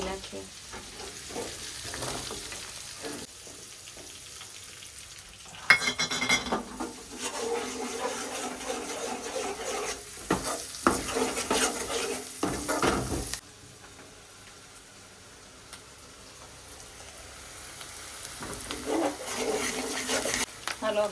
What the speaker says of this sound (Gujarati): આપણું તેલ થઈ ગયું છે, લસણ નાખી દઈએ. પછી ડુંગળી નાખીએ.